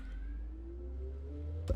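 A mechanical door system in the game Scrap Mechanic slides with a faint, steady motorised whine that rises in pitch, ending in a brief thud.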